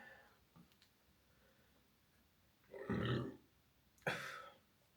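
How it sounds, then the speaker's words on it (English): A man's burp comes out as two short, low, guttural bursts in a quiet room, close to the mic, with no speech. "I wonder if the mic picked up the burp or the fart."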